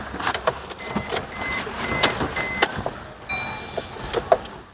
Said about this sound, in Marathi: गाडी चालू केली पण गाडी स्टार्टच होत नाही